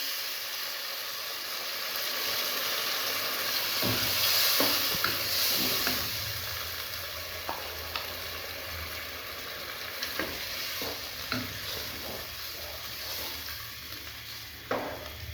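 Spinach being stirred into chicken in a hot pan while cooking palak gosht, with a steady sizzle and hiss and irregular scraping stir strokes near and clear, no talk.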